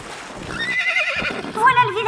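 Horse neigh from the video game Minecraft Legends: a loud, rising whinny with wavering pitch across the latter half, backed by game sounds and voices.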